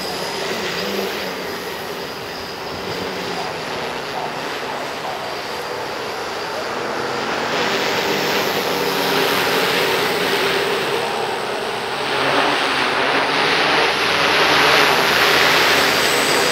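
Motors of an RCExplorer-based V-tail quadcopter with MultiWii and GPS hum steadily as it flies down to land outdoors, the loud buzzing whine swelling somewhat in the second half, with no voices.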